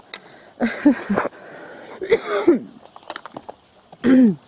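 Several rough, throaty coughs and throat-clearing bursts, close and fairly loud, scattered across a few seconds with brief pauses between them.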